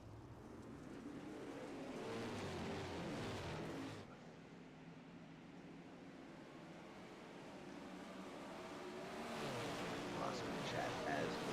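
Race car engines droning in the iRacing sim during a Grass Roots Racing Series league event, a steady motor roar that dips briefly midway and then swells again with higher-pitched whine toward the end, a voice talking over it.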